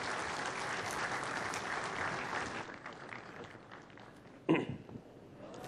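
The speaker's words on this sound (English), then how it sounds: "with a big round of applause" Dense audience applause at the ICAP CFO Conference in Karachi, 2018. It is loud and sustained for about three seconds, then thins and fades, with a brief sharp knock near the end.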